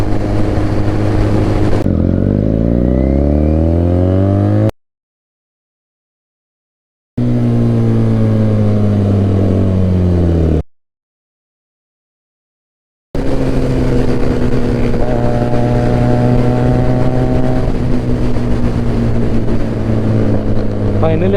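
Loud exhaust of a Benelli 300 or Yamaha MT15 motorcycle revving, rising and falling engine tones in several bursts separated by silent gaps, close and dominant.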